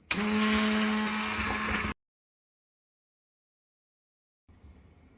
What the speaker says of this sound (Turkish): Şimdi blenderdan geçiriyoruz çorbamızı.